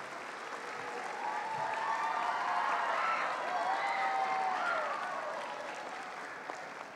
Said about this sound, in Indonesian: mari kita tepuk tangan. Kita bersorak.